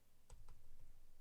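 Quiet keystrokes on a computer keyboard, a few quick clicks in a short burst, faint and close against a soft background hum.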